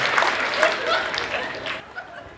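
An audience at a Hindi comedy show claps and applauds, a dense but moderate patter with light laughter mixed in, lasting a couple of seconds.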